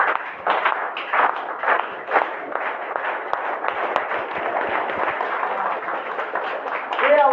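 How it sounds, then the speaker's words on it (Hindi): An audience at a business seminar claps along together with loud, dense handclapping that keeps going for about seven seconds, with sharp individual claps standing out in the crowd. "तालियां जब भी मौका मिले ना तो कैसे बजाना है मेरे साथ"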